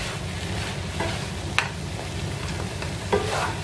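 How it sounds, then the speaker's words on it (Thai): Egg fried rice being stir-fried in a pan, a steady sizzle with a couple of sharp spatula clinks against the metal. "ผัดเขาเข้าด้วยกันเลย"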